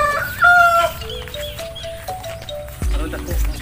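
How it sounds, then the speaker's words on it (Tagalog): A rooster crows loudly near the start, followed by scattered clucking from chickens, with faint voices and farmyard noise in the background. "Madaming alagang manok."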